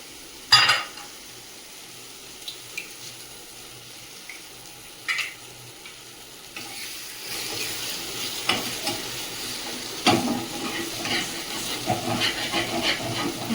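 Tomato and egg scramble frying in a pan: a steady close sizzle and hiss with occasional stirring scrapes and clinks, the frying growing louder and busier toward the end, with no talking.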